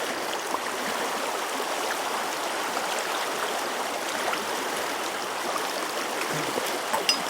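Running water fills the scene, a steady close stream from a tap as more is added to shaving lather in a badger brush, broad and even with a few small splashy bumps near the end.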